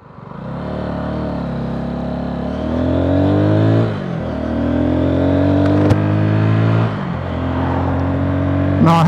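A brand-new Neco NC-N01 125 motorcycle engine runs under way with a loud, steady drone, rising in pitch through the gears with audible shifts and dips, heard close and continuous throughout.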